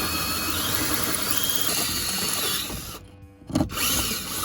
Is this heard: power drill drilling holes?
yes